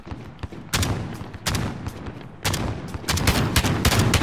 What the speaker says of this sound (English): Shotguns, this is crazy.